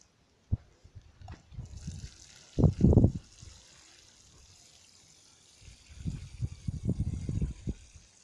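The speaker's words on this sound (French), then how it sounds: "Voilà, donc on arrose le fond." Water from a watering can splashes into the bottom of a garden furrow dug for sowing green beans, arriving in two short, close bursts of pouring and gurgling with quiet handling noise between.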